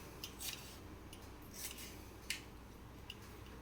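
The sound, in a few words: knife slicing tomato thinly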